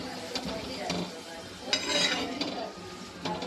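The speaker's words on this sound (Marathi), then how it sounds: "व्यवस्थित फिरवून घेऊया." Food stirred in a cooking pot while making sukat, with close scraping and light metallic clinks of a spoon against the pot, uneven strokes over a faint sizzle.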